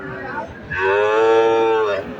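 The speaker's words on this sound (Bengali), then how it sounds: "এ হাটে দেশি এবং শাহিওয়াল গরু বেশি আমদানি।" A cow moos once, a single loud drawn-out low call close by at a village cattle market in Abadpukur, Naogaon, selling local deshi and Sahiwal cattle.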